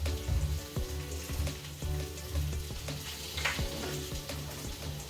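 Fish frying in a pan, a steady crackling sizzle with sharp spitting pops and some clinking of a utensil against the pan, close up and with no talking.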